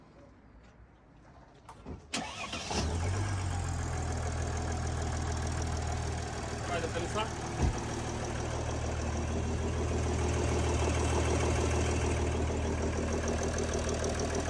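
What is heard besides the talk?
diesel engine knocking on cold start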